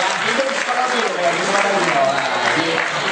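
Loud, steady applause from a seminar audience at a personal selling talk, dense continuous clapping with voices mixed in throughout.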